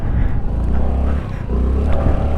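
Honda Navi scooter motor on a first ride, a steady close engine drone with slight pitch shifts, no talk over it.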